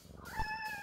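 A pet cat in No More Heroes 2 gives one short, clear meow over quiet looping game music.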